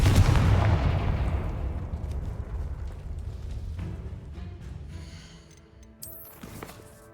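A Confringo blasting spell explodes in Hogwarts Legacy with one heavy, booming blast at the start. It decays into a long rumbling tail, and faint debris and chimes follow.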